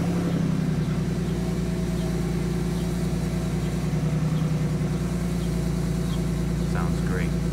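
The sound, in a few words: Ford Mustang cold start with modified exhaust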